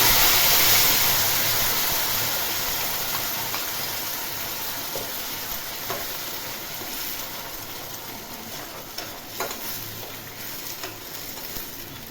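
Poppy seed and mustard paste dropped into a hot pan for parwal posto sabji, a steady broad sizzle that is loudest at first and slowly settles, with a few faint clinks of stirring.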